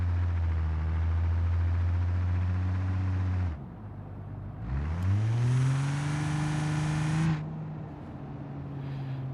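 A big boat-like car in BeamNG.Drive revs its engine while driving, a steady loud drone that cuts out, then climbs sharply in pitch as it accelerates again and settles into a sustained high whine.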